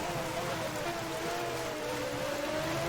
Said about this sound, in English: at this point it started raining for real